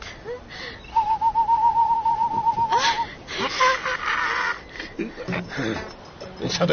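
A bird call rings out as a sustained, wavering whistle for about two seconds, followed by rougher cawing sounds, while people talk loudly over and around it.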